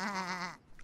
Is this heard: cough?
no